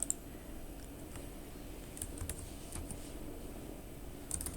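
Typing on a computer keyboard, sparse quiet key clicks spaced irregularly with a small burst at the end, faint and close in a quiet room.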